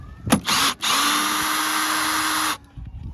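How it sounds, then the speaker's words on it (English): A power tool whirs loud and close while backing out 10mm bolts from the tail light panel of a BMW F31, with a short first burst, a brief pause, then one long steady run before it stops. "so we're just going to rip these 10mm bolts out"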